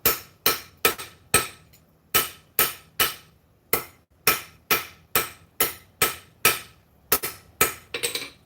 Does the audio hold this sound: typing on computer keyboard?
no